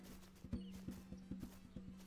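A horse in a video game clip-clops in a quick, even rhythm of hoofbeats, faint and steady over a low hum.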